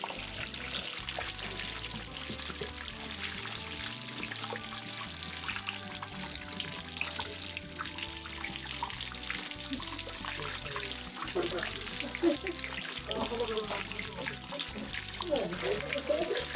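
Water trickles and drains steadily from a large bonsai pot tilted to one side after repotting, a continuous close splashing flow with faint speech underneath.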